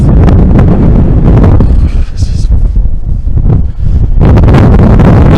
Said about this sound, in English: It's very breezy up here.